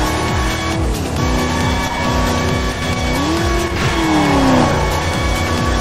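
A 1969 Dodge Charger R/T engine roars in a racing video game, loud and continuous, rising and falling through gear changes with a long climbing rev and faint tyre squeal.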